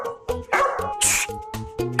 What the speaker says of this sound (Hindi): ये बहुत ही संस्कारी कुत्ता है, सब लोग इसे ढोकला कह के ही बुलाएंगे।